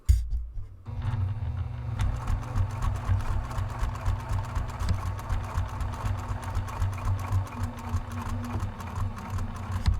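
A sewing machine stitches a second row across bag strap tabs, its motor starting after a brief pause and running in a fast, steady rattling rhythm close by, with no voices.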